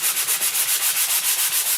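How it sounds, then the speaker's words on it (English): Sandpaper rubbed back and forth over a wooden pumpkin cutout, giving steady rhythmic scratchy strokes, about six per second, close and alone. "I like to give them a little bit of a sanding just to kind of even up all of that"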